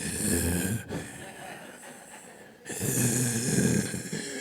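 At a senior comedy show, a performer imitates loud breathing into the microphone with two heavy, rasping, snore-like breaths and a quieter pause between them.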